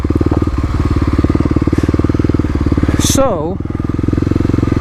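A modified Kawasaki KLX250 dirt bike with a slip-on exhaust idles loudly and steadily in a forest on off-road trails, its rapid even thrum running throughout with a brief throttle blip midway, while someone talks over it.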